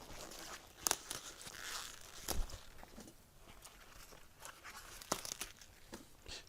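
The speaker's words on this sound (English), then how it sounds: "I just peel the leaves off" Leaves being peeled off a damaged cabbage head, with crisp tearing and crinkling snaps scattered irregularly over soft background rustle.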